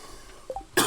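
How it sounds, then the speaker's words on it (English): A person coughs once, a sudden, loud, close burst right at the end after a quiet stretch of faint background sound. "there's some coughs for you anyway"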